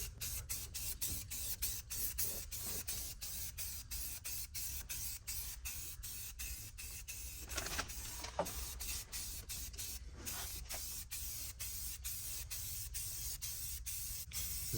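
Satin black spray paint misted onto a Ford Ranger firewall from an aerosol can, in a rapid series of short, evenly spaced bursts of hiss over a steady low hum, close and fairly quiet.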